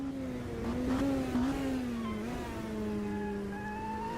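An LMP2 race car in Automobilista 2 powers out of a hairpin at Sebring, its engine droning steadily and rising in pitch as it accelerates, close and continuous.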